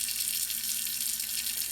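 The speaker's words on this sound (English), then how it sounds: "For the pot, I'm going to add some water." Water pours steadily into a Le Creuset pot with a continuous, even hissing splash, like a running tap filling a cooking pot, heard alone with no voices.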